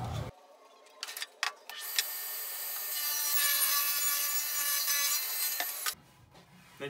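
Table saw ripping a board against the fence to make a rough sawn texture, a loud sustained buzzing cut of about four seconds, framed by short clunks and the motor winding before and after.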